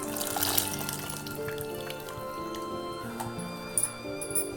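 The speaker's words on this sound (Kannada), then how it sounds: "ಹುಣಸೆ ನೀರು ಬಿಡ್ತಾಯಿದ್ದೀನಿ" Tamarind water being poured into a pot of simmering bassaru made with ridge gourd and beans, a steady liquid trickle and splash running throughout with a few brief clinks near the end.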